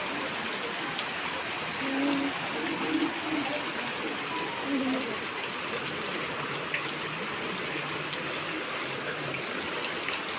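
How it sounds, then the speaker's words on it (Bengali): Heavy rain pours steadily with runoff water streaming and trickling nearby, a constant loud broadband wash over the whole stretch with faint voices briefly in the background. "প্রচুর পরিমাণে বৃষ্টি হইতেছে।"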